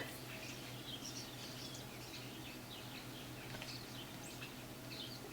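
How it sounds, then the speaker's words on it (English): Small birds chirp and twitter at a backyard bird feeder, faint and scattered across the whole stretch over a steady low background hum, with no voices. "can you hear the birds?"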